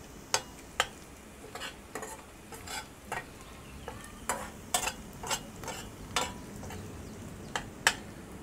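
Garlic sautéing in a pan, with a soft steady sizzle under regular sharp taps and scrapes of a utensil against the pan, close and fairly quiet with no talk.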